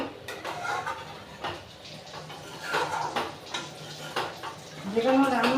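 A metal spoon scrapes stuck bits from the sides of a kadai (cooking pan) into water, giving a series of clanking scrapes and splashy stirs with light metallic knocks, close and moderately loud.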